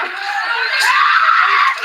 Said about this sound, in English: Horrified and screaming, the onlookers, families with children, fled for their lives